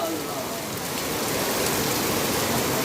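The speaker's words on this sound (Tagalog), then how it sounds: "Grabe yung ulan oh." Heavy rain pours down steadily on a rainy morning, a dense, loud, continuous hiss of drops hitting surfaces close by, with no letup across the whole stretch.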